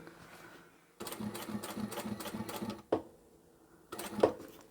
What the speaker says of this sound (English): We'll go down there one more time, turn one more time, and sew on to the end.